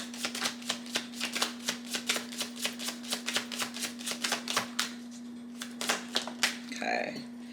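Astrology cards being shuffled in a rapid, regular run of crisp riffling flicks, with a steady hum underneath and a brief rustle as a card is drawn at the end.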